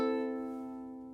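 A single ukulele chord rings out close and clear, its notes sustaining and slowly fading.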